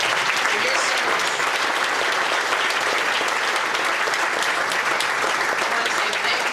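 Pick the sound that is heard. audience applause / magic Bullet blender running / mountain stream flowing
audience applause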